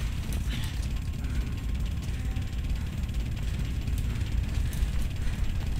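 Glitching, broken-sounding music in the video game Mirror's Edge, heard as a dense, steady wash of low rumbling noise with grinding, mechanical-sounding texture and scattered faint clicks, continuous and fairly loud throughout.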